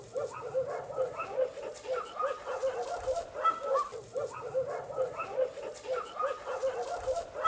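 Several dogs at a forest animal shelter bark, yip and whimper in a repeated, pulsing pattern at moderate distance, joined by faint voices.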